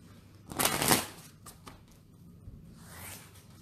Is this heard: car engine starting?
no